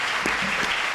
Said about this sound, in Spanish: les quiero pedir un fuerte aplauso a los expositores